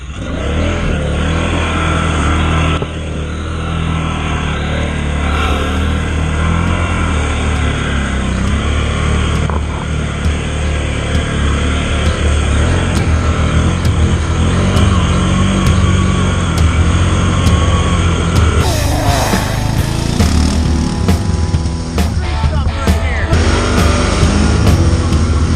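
A one-wheel-drive Can-Am off-road vehicle's engine revs loudly and steadily, rising and surging in strained pulls as the stuck wheels fail to turn, with a harsher burst of revving near the end.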